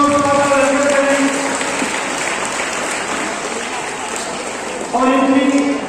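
Sustained applause from a crowd at a function in honour of an arriving guest, a dense steady patter that runs throughout, with a voice speaking over it at the start and again near the end.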